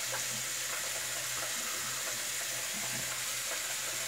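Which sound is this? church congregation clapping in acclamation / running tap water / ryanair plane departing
running tap water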